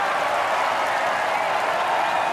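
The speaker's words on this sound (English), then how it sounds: "Crowd go wild for some reason." Crowd applause in the golf video game EA Sports Rory McIlroy PGA Tour, a loud, dense burst of clapping and cheering that is sustained for the whole moment without talk.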